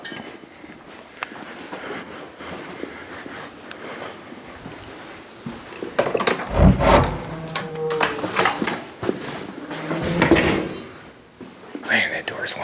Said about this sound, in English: Man, that door's loud.